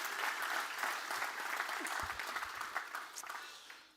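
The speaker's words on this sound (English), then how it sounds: "I think Eric needs another round of applause real quick." A commencement audience applauds steadily for a few seconds. The clapping is dense and even, fairly distant and moderately loud, with faint crowd murmur and a couple of stray low thumps, then tails off at the end.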